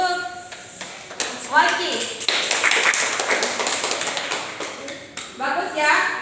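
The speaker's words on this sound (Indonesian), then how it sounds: "Beri aplaus untuk" Applause in a classroom, with scattered clapping that builds to a brief round and then fades. Voices talk before and after it.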